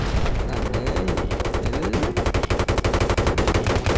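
Rapid automatic gunfire in the military shooter Battlefield 3, loud and close, as a continuous rattling stream of shots that runs for the whole stretch with no pauses.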